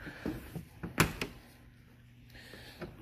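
The rear-hinged suicide door of an old Peugeot car swings open with a few light mechanical clicks and one sharp, close clunk, all brief and without speech.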